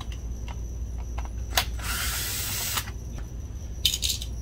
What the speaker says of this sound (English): we can take out the three screws holding in the optic module